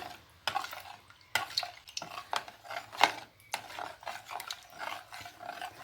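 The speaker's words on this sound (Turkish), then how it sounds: "2 su bardağı suya suya domates salçamızı karıştırıyoruz" A spoon stirs tomato paste into water in a bowl, making repeated close clinks and scraping taps against the dish in an irregular rhythm, with no talking.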